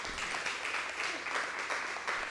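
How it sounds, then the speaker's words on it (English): An audience at a university postgraduate research day claps, a dense continuous patter of many hands rising and falling slightly, heard from within the room. "Can you please clap hands?"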